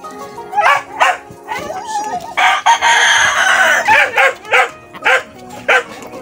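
Chickens cluck and crow loudly and close, with a long rooster crow in the middle and repeated short calls around it.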